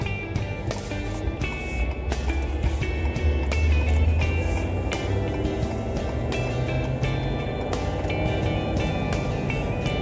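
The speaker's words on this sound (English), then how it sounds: "Get out on this road to see how they work. This is just kind of a preliminary drive." A Ford F450 pickup truck rolls down a road on new Continental HD3 tires, producing a steady cabin-heard tire and road roar with a low engine hum and occasional light rattles, no speech.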